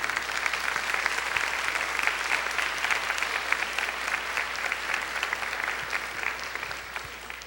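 A church congregation applauds after a Bible reading, steady dense clapping from many hands that carries on evenly, with a faint low hum underneath.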